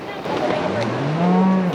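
Cattle on a drive through deep timber give a long, loud, low moo that swells near the end, over steady outdoor background noise.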